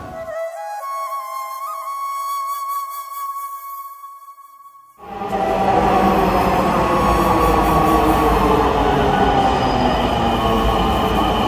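A metro train on a first-ever ride: for about five seconds steady electric hums and tones sound in a quiet car, then a loud, continuous rumble of the train running on its rails takes over and carries on to the end.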